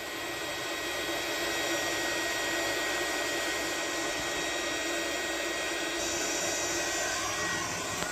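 A KKSevens induction heater works on a stubborn, penetrant-soaked bolt, giving a steady, unbroken electrical hum and whine that stays level and fairly quiet for the whole stretch, with no voices.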